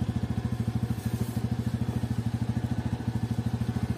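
A 2022 TVS Radeon BS6 motorcycle idles close by, a fast, even single-cylinder putter with a regular pulsing beat holding steady throughout.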